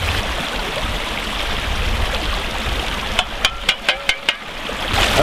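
A river runs steadily at a gold-prospecting spot in Finistère, Brittany, a continuous broadband rush of flowing water. Around the three-to-four-second mark, six sharp, evenly spaced clicks or taps sound over it.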